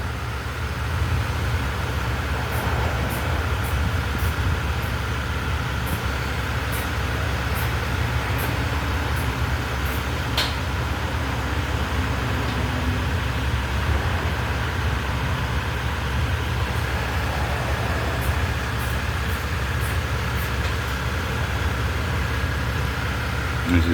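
Ram 1500 pickup truck driving during a regeneration test, a steady low road-and-engine rumble heard from inside the cab, continuous and even throughout, with faint repeated ticking clicks and no talking.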